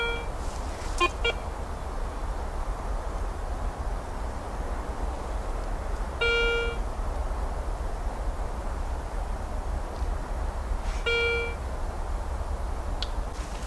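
Short electronic beeps from a metal detector sweeping over old ground where a shed once stood, three brief tones spaced several seconds apart over steady outdoor background noise.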